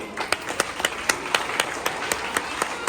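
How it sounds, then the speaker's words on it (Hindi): An audience claps for teachers at an education event, a steady run of sharp, evenly spaced hand claps at moderate loudness, with no talking over them. "उनके लिए ताली बजा दीजिए।"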